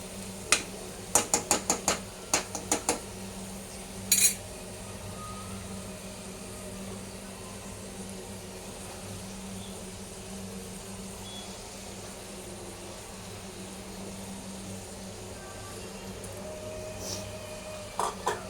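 Food sautéing in a pan with a little oil gives a faint, steady sizzle, with a few sharp utensil clicks at the start and end.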